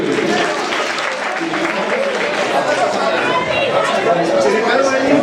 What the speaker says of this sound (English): Big round of applause for Eli Cohen as well